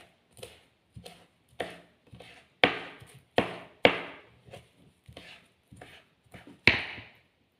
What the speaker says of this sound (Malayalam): ഇങ്ങനെയാണ് ഞാൻ അരിഞ്ഞെടുക്കുന്നത്. വളരെ ചെറുതായിട്ടാണ് ഞാൻ അരിഞ്ഞെടുത്തത്.